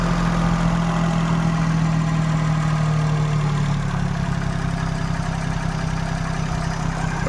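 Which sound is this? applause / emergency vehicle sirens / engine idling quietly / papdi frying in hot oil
engine idling quietly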